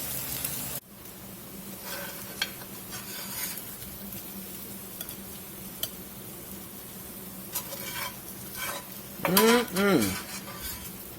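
Southern-style fried squash, cooked in olive oil and bacon grease with Cajun seasoning, is scraped from a skillet into a bowl: scattered utensil clinks and scrapes over a low sizzle, ending with a few louder metallic clatters.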